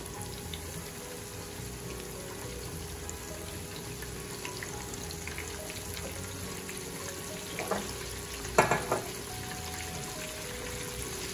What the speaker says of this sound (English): Now you see I'm dipping the end of the oyster in and not just dropping it.